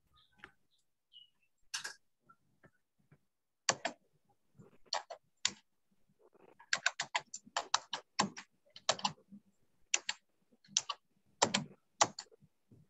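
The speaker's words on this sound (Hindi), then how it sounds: "कोई कीबोर्ड ऐसा ही झूठ मूठ को लग रहा है कि पीट रहा है" Computer keyboard typed on in sparse, irregular clicks that come in uneven clusters, clear and near against a quiet room with no talking.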